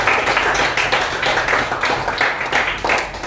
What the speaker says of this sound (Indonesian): Berikan tepuk tangan untuk anak-anak.